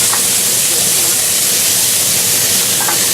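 Big chunks of turkey frying in a pan give a loud, steady sizzle and hiss that runs unbroken, with a couple of faint clinks near the start and end.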